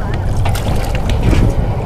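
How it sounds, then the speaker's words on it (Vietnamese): Strong wind gusts over a small fishing boat on a river, a steady, rough roar of wind buffeting the microphone throughout. "Gió quá trời gió luôn á cả nhà."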